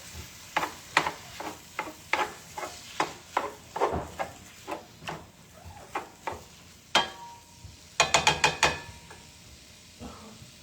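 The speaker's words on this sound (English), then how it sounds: "Give this a quick stir." Chili gets a quick stir in a pot with a twist-and-chop utensil, producing a string of short scraping and clacking strokes in an even rhythm, then a quick flurry of sharper clicks near the end.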